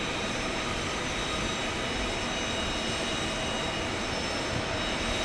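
A plane landing at Phoenix Sky Harbor airport, a loud steady broadband jet engine roar with a high whine held throughout, close and unbroken, with no talk.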